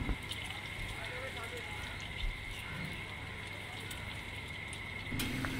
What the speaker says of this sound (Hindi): इस खुदकार मशीन में शामी कबाब एक मुनासिब हद तक फ्राई होते हैं, और मशीन के दूसरी तरफ डीप फ्राई होके निकलते हैं।